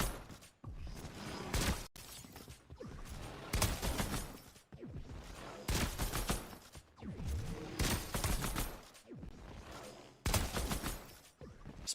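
Rapid bursts of gunfire from the video game Fortnite, with the player jumping, shooting and switching guns, arrive in dense, loud volleys separated by brief gaps.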